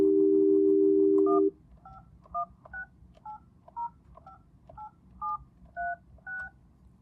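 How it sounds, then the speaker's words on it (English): A desktop telephone dialing an outside line gives a steady dial tone for about a second and a half. About a dozen evenly spaced touch-tone beeps follow, clear and close. "So I'll select an outside line."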